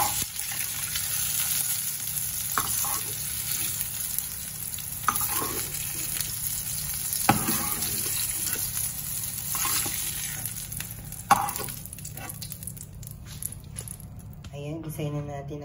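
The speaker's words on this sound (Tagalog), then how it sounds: "Ayan, gisayin na natin ang bawang." Garlic sautéing in a pan for sambal to go with eggplant, a continuous low sizzle with occasional stirs and clinks, near and moderately loud, with a person talking over parts of it.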